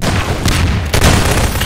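A rocket explosion from Half-Life 2 Deathmatch booms loudly, a dense roaring blast that swells again partway through, close and heavy with broad rumble.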